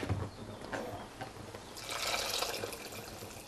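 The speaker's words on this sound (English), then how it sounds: "Now we add the water to create the gravy." Hot water poured into a dry curry mixture of eggplant and vegetarian mince, a soft splashing pour that swells into a steady, louder liquid rush.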